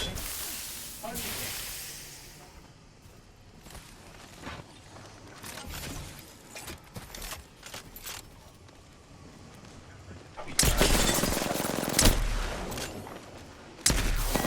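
In the video game Apex Legends, an Arc Star and a frag grenade explode as two loud bursts late in the sequence, following quieter shuffling and clicks, with a player talking over parts of it.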